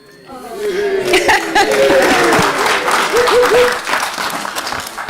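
Audience at a district council meeting clapping, a short burst of applause rising and fading over a few seconds, mixed with a voice and some chatter.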